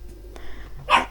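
A dog barks close by as a husband arrives home, giving a single sharp, loud bark after some faint earlier yips and shuffling.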